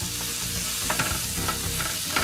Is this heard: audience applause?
no